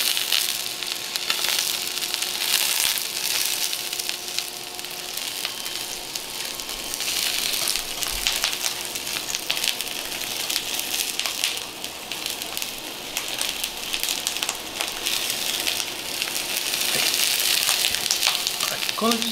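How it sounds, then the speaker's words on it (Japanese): White leek (negi) browning in a pan, giving a loud, continuous close-up sizzle and crackle of frying that holds steady throughout. "ちょっとこのように白ネギですね。 ちょっとこう焼き目をつけていきます。"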